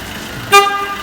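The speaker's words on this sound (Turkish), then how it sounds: "Korna." One short, loud honk of a car horn sounds over faint background hum.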